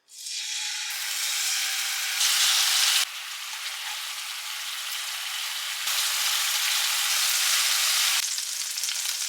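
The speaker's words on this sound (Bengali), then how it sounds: "নর্মাল ফ্রাই করছি অল্প তেলে" Food fries in a little oil in a pan with a steady, close hissing sizzle, growing louder in bursts as it is stirred, and no one speaks.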